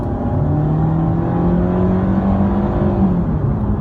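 A Mercedes C180 W204 fitted with a RaceChip tuning module accelerates hard, its engine note rising and droning steadily throughout at close range, with no talk over it.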